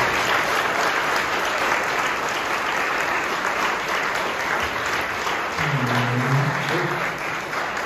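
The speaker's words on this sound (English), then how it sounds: "how about a big round of applause for these guys?" An audience at a Kiwanis gathering marking the 35th anniversary of the film Hoosiers bursts into sustained applause, a dense even wash of clapping that carries on steadily for several seconds.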